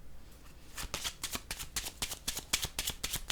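Tarot cards being shuffled and laid down, a run of quick crisp riffling flicks and soft slaps close by, uneven in rhythm and fairly quiet.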